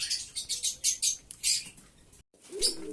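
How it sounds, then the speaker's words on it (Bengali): Pigeons are let out of their cages, giving a rapid series of close, bright wing flaps and fluttering bursts, followed after a brief gap by a soft cooing call. "এরপরে সব পায়রাগুলোকে ছাড়বো"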